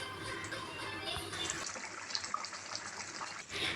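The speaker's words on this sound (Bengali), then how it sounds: "মাংস আর আলু কষানো হয়ে গেছে, এবারে জল দিয়ে দেব" Water poured into a pot of chicken and potato curry, a steady close gushing and splashing stream running almost continuously before easing off near the end.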